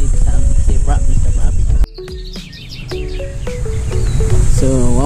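Several birds chirp and call in short repeated phrases outside a house, fairly close and clear, with a sharp cut midway where the background hum drops and the calls continue over quieter ambience.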